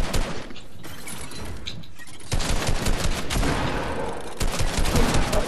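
Rapid bursts of automatic gunfire in a Fortnite arena duos match, dense and continuous, growing louder and heavier in the second half with overlapping shots.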